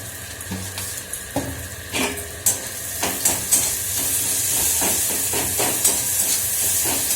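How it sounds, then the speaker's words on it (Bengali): Onion frying with salt in a hot pan, a continuous sizzle and hiss broken by a series of sharp scraping stirs of the spatula against the metal, close and fairly loud. "বেশ ভাজা হয়ে যাবে পেঁয়াজটা"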